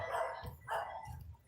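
Dogs at a small dog park in Laureles, Medellín, Colombia bark in three short bursts, close and fairly loud over street ambience.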